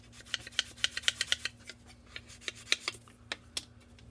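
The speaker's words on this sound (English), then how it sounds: "give it a little sand on the inside edge" Close, dry rasping strokes of sandpaper against the inside edge of a plastic part from an AMT multi-piece scale model truck kit, a quick irregular run of scrubs that pauses midway, then resumes with a few sharper passes.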